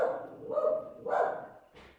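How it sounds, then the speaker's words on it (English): Dogs outside bark in three loud, separate bursts about half a second apart, fairly close, with no talk over them. "the dogs that are barking outside"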